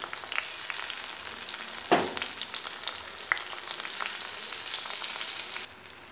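Onions fry in a pan for a pepper curry, giving a steady close sizzle with a sharp stirring clatter near two seconds and a lighter knock later, no voices.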